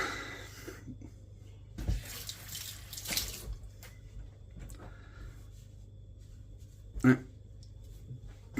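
Kitchen tap water running while an orange is washed, a few short splashy bursts of flow with quiet gaps between them and a sharp clunk near the end.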